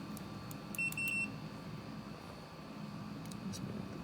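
A multimeter beeps during a continuity test on a radio transceiver build, giving one short, clear electronic tone over a quiet room hum, followed by faint ticks.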